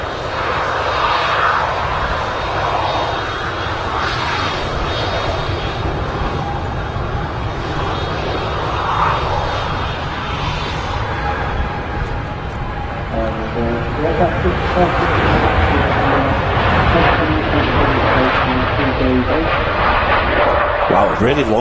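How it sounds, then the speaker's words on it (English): A three-year-old TUI Boeing 787-9 Dreamliner takes off from Manchester Airport, its engines holding a loud, sustained roar that swells through the takeoff roll, with someone commenting over it. "waiting for the departure of a Dreamliner, which is now rolling off to Montego Bay, a 787-9 Dreamliner"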